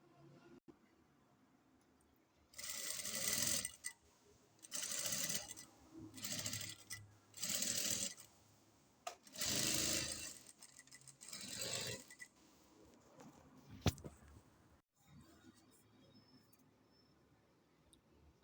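Sewing machine stitching kembe fabric, running in several short bursts of a few seconds each with brief pauses between, close and fairly quiet.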